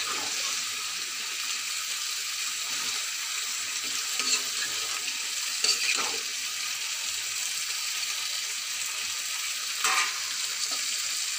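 Mixed vegetables frying together in a pan, a steady close hiss of sizzling oil with a few scraping stirs and small clatters, no talking.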